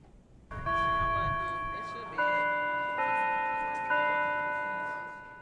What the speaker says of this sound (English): As the bells ring out this Mother's Day, St. Sabina Church unveils a new and dramatic statue.